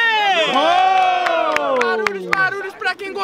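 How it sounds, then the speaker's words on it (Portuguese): Crowd at a Brazilian student rap battle roars with cheers, whoops and shouts after a round, a loud continuous swell of voices with sharp claps or stamps punctuating it. "Barulhos pra quem gostou das rimas do JP"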